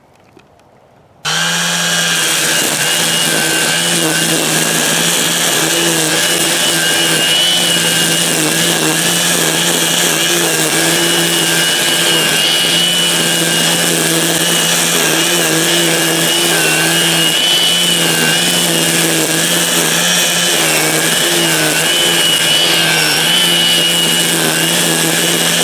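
A Dong Cheng 40-volt battery string trimmer starts abruptly and then runs at a steady high whine on speed 2, cutting thicker grass up close, with a loud continuous motor tone and no talk.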